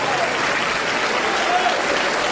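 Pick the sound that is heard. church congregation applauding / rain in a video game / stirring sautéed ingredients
church congregation applauding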